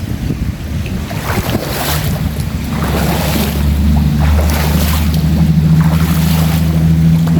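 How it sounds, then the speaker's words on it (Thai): Strong water flow in a tilapia fishing spot with a 7 cm mesh net, a steady broadband rush that builds gradually and holds loud and close, with wind buffeting the microphone and no talk. "ดูครับไหลน้ำเต็มเลย"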